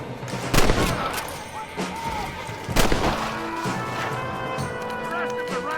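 Gunfire in the Western video game Red Dead Redemption: two loud, sharp shot bursts about two seconds apart, each trailing off, with game ambience and clopping hooves in between.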